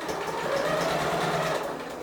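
Domestic sewing machine running steadily while stitching a fabric seam, including a reverse stitch, a quiet close whirring hum for about two seconds.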